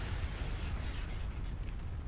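Continuous rumbling blasts of a bombardment in the space strategy game Star Wars: Empire at War, a dense, loud low roar of explosions with no gaps and no talk.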